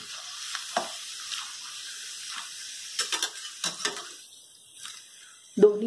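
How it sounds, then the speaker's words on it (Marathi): Sun-dried grated potato pieces frying in very hot oil: a soft, steady sizzle with scattered crackles and occasional stirring clatter, ending in a louder burst. "आता आपण हे तळूया."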